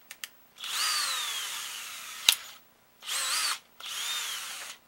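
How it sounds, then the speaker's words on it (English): A power drill with a 7/64 bit drills wood in three whirring bursts with short pauses between, close and loud, with a sharp click in the middle. "you're going to take your 7/64 drill bit, and you're going to chuck it into it"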